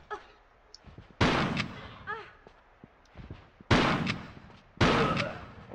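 Shotgun blasts fired at a guard in Tomb Raider 3, three heavy booming shots spaced a second or more apart, loud and close, with smaller game noises between them.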